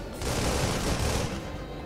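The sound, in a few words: cannon fire in the video game Project Nimbus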